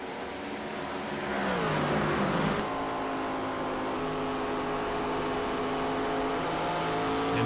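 A pack of race cars in a sim racing game at Iowa roars back up to speed on a restart, engine tones climbing and layering, then settling into a sustained loud multi-car drone.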